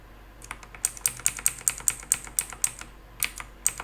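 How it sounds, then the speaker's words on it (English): Arrow keys tapped one at a time on a computer keyboard while stepping through video frames in editing software, about a dozen crisp, evenly spaced clicks, close and alone. "I'm going to use the arrow directional keys, and I'm going to go till the frame switches over"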